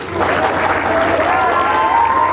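Children and adults at a school summer camp clap together in a loud, sustained round of applause, with faint crowd voices underneath.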